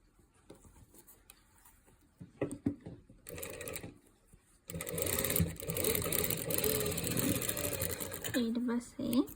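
Sewing machine stitching a shirt collar, running in a steady continuous whir for several seconds after brief handling noises, with talking over the machine at times.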